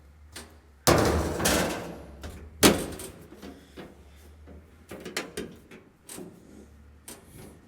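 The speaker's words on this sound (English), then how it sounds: "I'll close the door" The door of a Model A Roadster with freshly made door panels is swung shut in a workshop, not closing fully: two solid metallic thuds followed by lighter clunks and rattles, with quiet gaps between.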